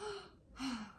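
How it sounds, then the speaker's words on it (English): A child draws a deep breath during a pediatric exam, a short audible inhale followed by a stronger breathy exhale, close and alone. "Take a deep breath."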